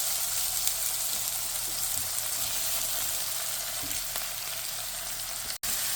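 About a cup of onions frying in a pan to brown, giving a steady, even hiss and sizzle close up with no break, apart from one brief dropout near the end.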